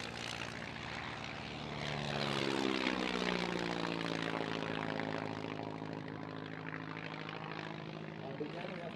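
Vintage propeller aeroplanes pass at a flying display at Tatenhill, their engine drone swelling as one sweeps close with a pitch-shifting roar, then fading while a commentator talks over the noise.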